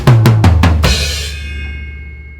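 A drum fill leads into the chorus of a song: four or five quick, punchy tom and snare hits in a rapid run, then a crash cymbal washes out and fades. Loud and close, with no talk.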